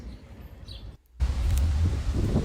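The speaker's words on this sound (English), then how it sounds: "Do you hear the wind in the grass?" Wind gusts rustle through grass and leaves, a brief hush and then a stronger blustery rush with faint bird chirps in the background.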